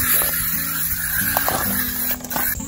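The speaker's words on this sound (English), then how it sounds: "bug spray" An aerosol can of bug spray hisses in a steady, loud burst lasting the whole moment, close to the microphone, with a faint hum underneath and no talking.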